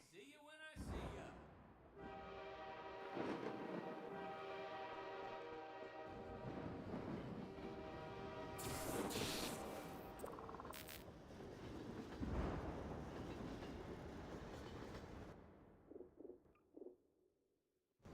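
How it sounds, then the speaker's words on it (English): A train in the video game Half-Life 2 Episode 1 rumbles loudly and steadily for about fifteen seconds, with sustained horn-like tones riding over the clatter before it fades into a few short knocks. "I'll get a head start on the next train."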